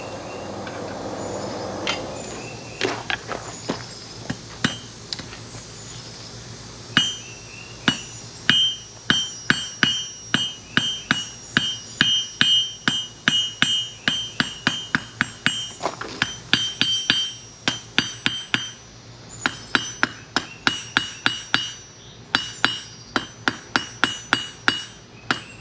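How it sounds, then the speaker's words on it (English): Hot steel being hammered on an anvil to draw out a taper for a blacksmith's S hook, a long run of sharp ringing metallic blows in a steady, quickening rhythm, close and loud, with no talk. "we're going to heat up the other end and draw that out into a nice taper"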